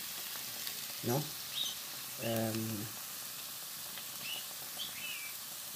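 Salmon and potatoes sizzle quietly in a pan under a steady, faint frying hiss, while a voice speaks briefly now and then.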